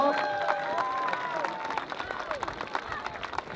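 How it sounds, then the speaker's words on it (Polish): Crowd at a Pierwsza Krew III free fight event applauding and cheering for fighter Michał Bednarski, a steady wash of clapping and voices with an announcer's voice ringing over it throughout. "Wielkie brawa dla niego."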